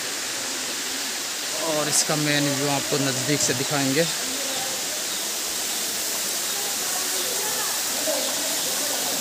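A waterfall at the Garwa Ji temple near Alwar, where people bathe, gives a steady, loud broadband rush throughout, with someone talking over it for a few seconds.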